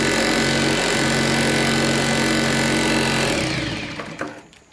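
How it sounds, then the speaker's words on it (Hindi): A sewing machine stitching a kanchali blouse, running in a fast, steady mechanical whir for a few seconds before slowing and stopping with a few soft clicks. "इस तरीके से हमें एकदम सीधी हमें सिलाई को लगाना है"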